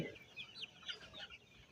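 Sonali chickens on a poultry farm cluck and chirp softly in short bursts over a quiet background hum, a few birds calling at once.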